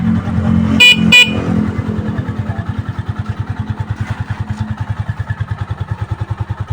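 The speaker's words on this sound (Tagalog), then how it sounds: "Ang busina." Two short horn toots sound over a steady Rusi 175 motorcycle engine (2024 model), which then settles into a loud, pulsing idle putter.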